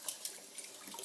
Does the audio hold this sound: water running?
yes